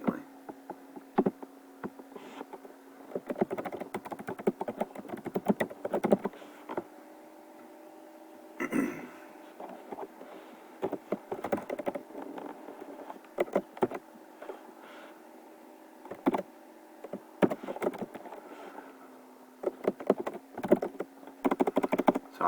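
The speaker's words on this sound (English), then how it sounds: "So I'm just typing in what I would have to join class." Someone types on a computer keyboard to join a Google Classroom class, with irregular bursts of close, crisp key clicks and short pauses over a faint steady hum.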